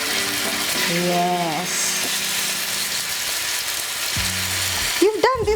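Chicken wings frying in oil on a double grill pan, a steady close sizzle under brief talk from a couple of people, with a few tonal squeaks and a louder clatter near the end.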